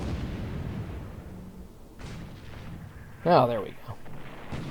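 A warship fires its guns in the War in the Pacific video game: one short, sharp boom over a low rumbling background, and someone speaks briefly.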